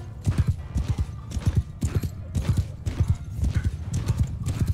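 Galloping cavalry hooves in the battle game Mount & Blade 2: Bannerlord, a steady, rapid drumming of clip-clop beats from several horses, loud and continuous over the whole stretch with a brief whinny mixed in.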